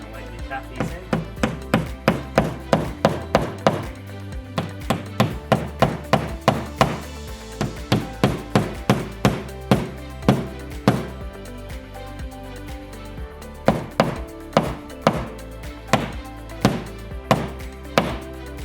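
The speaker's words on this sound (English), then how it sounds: "we're just going to lightly tap these in." A steady run of sharp, close knocks in quick succession as wall anchors are lightly tapped in with a hammer, with brief pauses between bursts.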